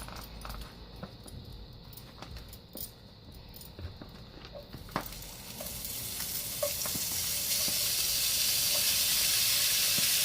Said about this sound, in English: And it's sizzling, so you know it's ready.